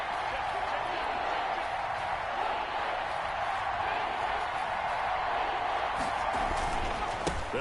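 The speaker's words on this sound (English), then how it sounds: "Here comes a big one as this crowd gets up making some noise." A stadium crowd in a PS4 American football game roars as one steady wash of cheering and noise, constant and broad throughout with no clear breaks.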